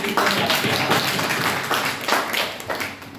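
Students in a class clap together, dense bursts of applause that swell and fade for a few seconds, loud and close.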